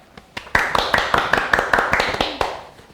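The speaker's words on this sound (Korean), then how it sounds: "박수부터 너무 안 맞는 거 아닌가요?" A few people in an office setting clap together out of sync, a loose run of about a dozen sharp, close claps that straggle and fade over a few seconds.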